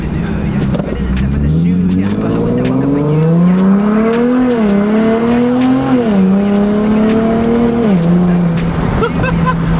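A loud Nissan 370Z with a Tomei exhaust revs up and holds, its exhaust note rising and wavering in pitch, close and aggressive throughout.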